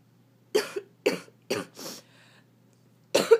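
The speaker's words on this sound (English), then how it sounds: "I'm sick, coughing and sniffling." A sick person coughs close by: four short, harsh coughs in quick succession, a brief throaty rasp, then one more cough after a pause, in a quiet room.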